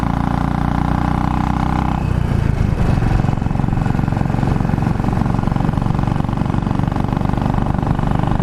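A Royal Enfield motorcycle engine drones steadily while riding, shifting to a rougher, louder tone partway through and continuing without pause.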